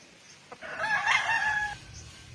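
A rooster crows once, a loud drawn-out call rising and holding for about a second before breaking off, over faint background noise.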